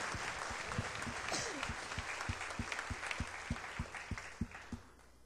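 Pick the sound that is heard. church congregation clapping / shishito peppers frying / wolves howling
church congregation clapping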